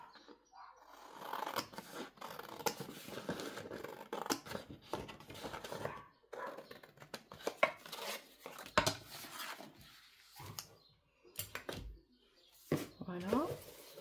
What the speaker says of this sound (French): Je coupe.